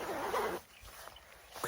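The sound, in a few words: jacket pit zip being unzipped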